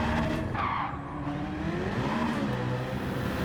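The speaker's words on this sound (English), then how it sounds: "Here in the 9th, I lost control and had a big crash" A race car in Gran Turismo 7 skids and squeals in a loss of control during a race crash, a dense, continuous roar of tire and engine noise without talk.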